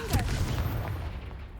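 Confringo explosive spell in Hogwarts Legacy bursts with a sharp, loud blast and a crackling rumble that slowly dies away over about a second.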